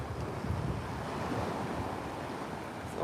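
Ocean surf washes continuously onto a beach, a broad steady roar mixed with wind buffeting the microphone, moderately loud with no talking.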